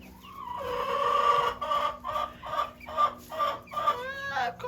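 Barred Rock chickens clucking in a barn pen, a run of close, repeated clucks and squawks in uneven bursts, fairly quiet and with no talking over them.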